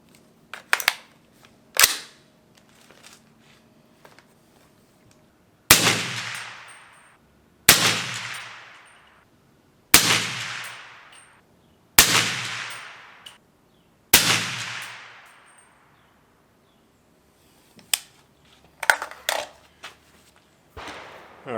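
Rifle shots from a 300 Blackout V Seven 6.5-inch fluted barrel firing blasting ammo: a few sharp cracks, then five evenly spaced loud reports with ringing decay, followed by more scattered shots, nearby outdoors.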